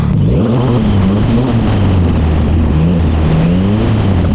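A car driving on a road during food delivery rounds, its engine droning loud and close with rising and falling revs throughout, no voices.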